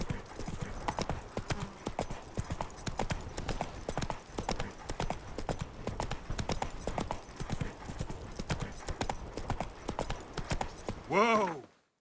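Hooves of the horse Roach clip-clop steadily in The Witcher 3, a brisk, even rhythm close by over a continuous background, ending with a short neigh-like rising call just before it stops.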